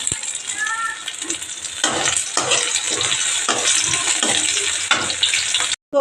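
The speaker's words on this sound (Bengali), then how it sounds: "আমুদি মাছ ভাজা করবো।" Amudi fish frying in a pan, a steady, fairly loud sizzling hiss with occasional crackles that runs almost throughout, broken by a brief silent gap just before the end.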